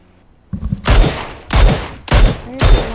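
Gunfire in the video game PUBG, four heavy booming shots spaced roughly half a second apart, each with a long rumbling tail, loud and close with no talk.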